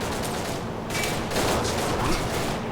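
Gunshots crack in the World War II tactical game Commandos Strike Force, a series of sharp shots in a steady firefight, fairly loud and close with no talking.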